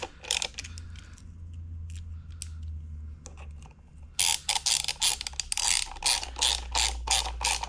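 Small flathead star bolts, pre-coated with Loctite, being snugged down on the flywheel drum of a Vespa smallframe engine, with sparse clicks giving way to rapid, close ratcheting clicks in quick bursts.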